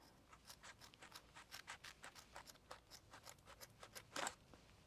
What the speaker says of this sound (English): I'm going to trim just a little bit off the side